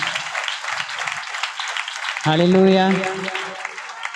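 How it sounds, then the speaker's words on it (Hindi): A church congregation claps loudly in praise, a dense rush of applause that carries on as a voice calls out a short exclamation over it. "तेज ताली बजा के परमेश्वर का धन्यवाद दीजिए।"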